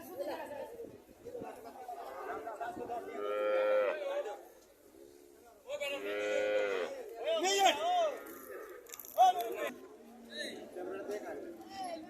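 Dairy cows of the Friesian breed moo repeatedly at a rural cattle market, several long, fairly close calls rising and falling, with people talking and chattering around them.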